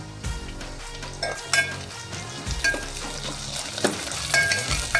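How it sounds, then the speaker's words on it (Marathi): Onion and curry leaves fry in a pan with a steady sizzle, while a utensil stirs and scrapes in irregular clinks and knocks against the metal throughout. "कांदा छान मऊ होतोवर आपल्याला परतून घ्यायचा आहे. कांदा पण लाल होते, आपण कढीपत्ता घालूया."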